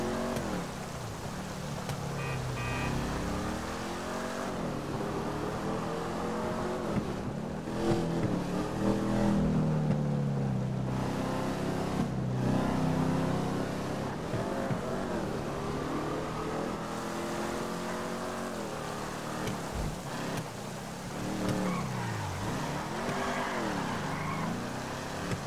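A car in GTA 5 Online with transmission upgrades revs and climbs through its gears, the engine pitch rising and dropping repeatedly in sweeping steps, loud and continuous over a steady background.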